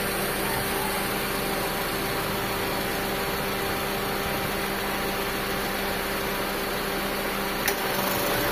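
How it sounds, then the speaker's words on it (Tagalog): The air-conditioning compressor on a Mitsubishi Lancer hums steadily alongside the engine, a broad, constant drone with a faint tonal whine and a single small click near the end. "umandar na ulit yung compressor"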